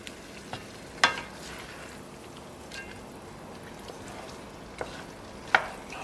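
A wooden spatula stirs spaghetti all'assassina in a frying pan over a faint steady sizzle, with a few sharp scrapes and clacks scattered across the stir.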